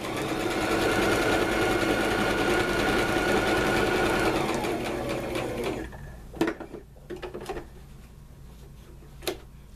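A sewing machine runs steadily while stitching quilt strips together, a continuous fast mechanical whir that stops partway, followed by a few sharp clicks and taps.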